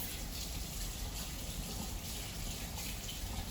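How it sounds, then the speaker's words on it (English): Warm tap water runs steadily from a faucet at a gentle flow for hand washing, making a continuous close hiss with no breaks and no talking. "So now I'm going to turn on the water softly, making sure it doesn't splash"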